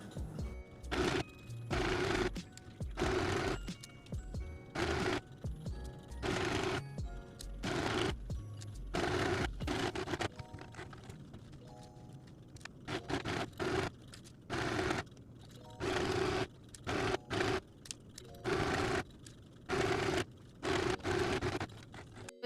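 A sewing machine stitches fabric pieces together for a zippered purse, running in repeated bursts of fast, close mechanical whirring separated by short pauses, with no talking.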